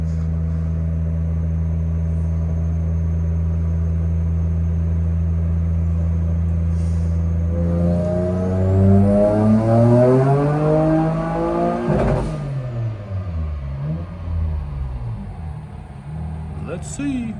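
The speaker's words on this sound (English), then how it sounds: "here goes last pull, 4th gear, boostain. See what she does" A built Nissan 350Z making a 4th-gear pull on a dyno: a loud, steady engine drone climbs sharply in pitch as revs rise, peaks, then falls away as the car winds down, with a voice talking over it.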